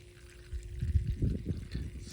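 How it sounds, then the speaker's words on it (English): Water gushing out of a well through a pump line as it flushes muddy debris, starting faint and swelling into an uneven, close splashing pour. "Here it comes, flushing out the crap from the well."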